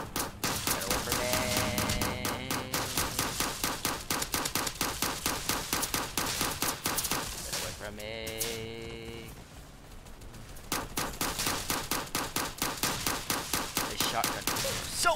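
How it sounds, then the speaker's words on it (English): Rapid, dense bursts of shotgun fire in the Base Battles video game, continuous stuttering blasts with a brief lull near the middle before the barrage resumes at full intensity. "This shotgun is so annoying."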